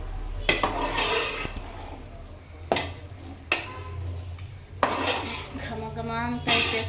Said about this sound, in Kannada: ಈಗ ಎಲ್ಲ ಚೆನ್ನಾಗಿ ಒಂದ್ಸರಿ ಮಿಕ್ಸ್ ಮಾಡಿಬಿಡೋಣ.